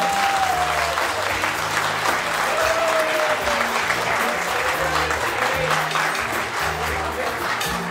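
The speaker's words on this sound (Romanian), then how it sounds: "vreau să facem un puternic și călduros aplauz pentru toate doamnele și domnișoarele prezente" Strong, steady applause from a live audience at a band's concert celebrating women, dense and continuous throughout, with faint music tones and crowd noise underneath.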